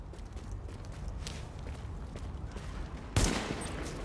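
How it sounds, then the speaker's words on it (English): A single sharp gunshot in the video game The Division beta, cracking out near the end after quiet footstep-like shuffling ambience. "That was a gunshot."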